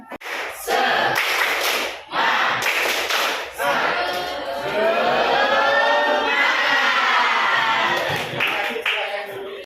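A classroom of students claps a taught rhythmic clap pattern in loud, sharp bursts, broken by short pauses and followed by group chanting or cheering voices.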